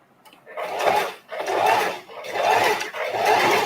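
A sewing machine with an open-toe foot stitches one fabric onto another in four steady whirring bursts, separated by short pauses where the work is turned and adjusted, close and fairly loud.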